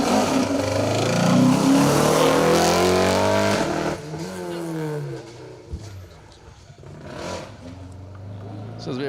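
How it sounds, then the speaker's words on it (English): A Peugeot 205 rear-wheel drive rally car on an asphalt rally stage runs loud and rough, its engine droning heavily before easing off, with people talking over it throughout. "Jay Nevins and Egan Moore's Peugeot 205 rear-wheel drive car"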